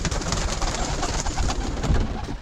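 Pigeons cooing at a dovecote with an aviary, soft throaty coos repeating over a dense, steady bed of nearby bird sounds and rustling, with no talking.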